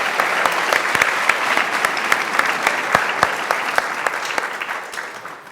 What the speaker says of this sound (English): so let's have another big round of applause